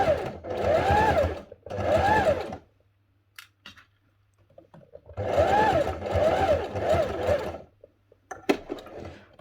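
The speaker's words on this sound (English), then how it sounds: "So I just want to top stitch each of these bases closed." Sewing machine top-stitching fabric Christmas tree bunting, running in two bursts of rapid stitching separated by a quiet pause, close and steady.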